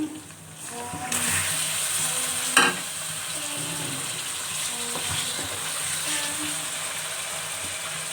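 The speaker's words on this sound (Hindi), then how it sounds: "अब हम इसमें चिकन ऐड कर देते हैं।" Chicken pieces hit a hot pan of browned onion and garlic and fry with a steady, close sizzle, with light stirring scrapes and a brief clatter partway through.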